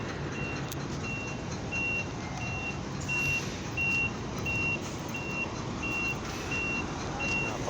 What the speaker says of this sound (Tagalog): Napakaraming truck dito mga ka-idol talaga no.